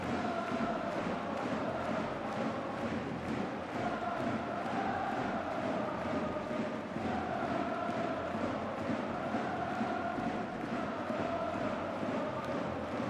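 A large stadium crowd at Suita City Football Stadium before an evening AFC Champions League Two match between Gamba Osaka and Ratchaburi FC, heard as a faint, distant, continuous murmur with low chanting swells.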